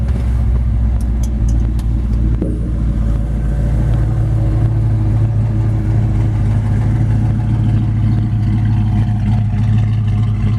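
A 1932 Ford Deuce convertible roadster's engine idles nearby, with a deep, steady, even rumble that stays loud and unchanging, with a few faint clicks early on.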